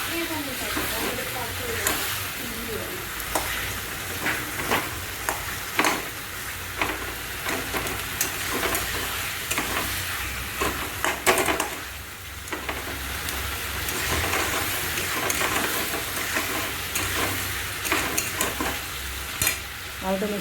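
Masala and potatoes sizzle and fry in a pan for an egg curry, a steady close hiss broken by repeated scraping stirs, with someone talking over the cooking.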